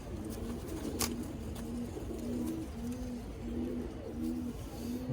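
Brown-necked pigeons on a home rooftop give soft, repeated cooing calls in a steady rhythm, close by over quiet background hiss, with a few faint clicks.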